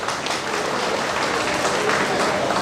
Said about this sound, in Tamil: ஆமோதிக்கிறவங்க கைதட்டுங்க.